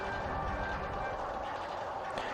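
A half-loaded mine train roller coaster in the OpenRCT2 video game, rumbling and clattering along its track in a steady, continuous roar that stays close and loud the whole time.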